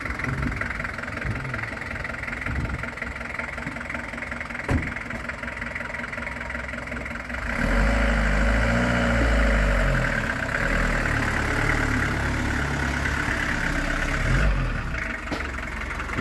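A 1983 Ford Transit Pilote diesel camper labors uphill on a mountain road in the Tatra foothills, its engine droning continuously and rising to a heavier, deeper pull midway before easing slightly near the end.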